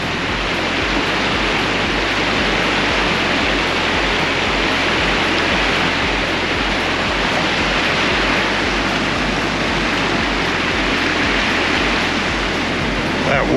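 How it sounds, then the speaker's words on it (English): Broadband roar of a river rushing near Mount Kosciuszko, steady and loud throughout with no break, like nearby cold water tumbling over rocks. "So that noise you can hear is these rivers again"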